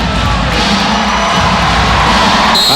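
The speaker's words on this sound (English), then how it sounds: "the crowd comes alive" A basketball arena crowd roars continuously through a Timberwolves at Lakers game, a loud dense wash of cheering and shouts that holds steady without a break.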